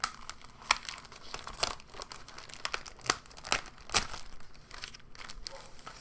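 A plastic baggie holding instructions and cards from a tabletop miniatures box is handled and opened, giving soft, steady crinkling with sharper crackles every half second or so, close and fairly quiet.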